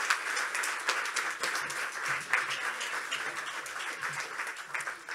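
Steady applause from an audience at a town library grand reopening, dense continuous clapping lasting throughout with no speech.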